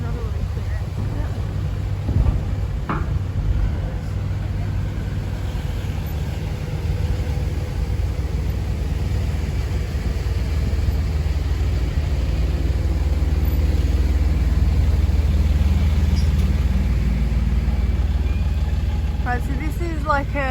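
An open-air car ferry creeps slowly across the water, its engine a steady low rumble and hum throughout, with water noise and voices talking over it; a faint clank near the start.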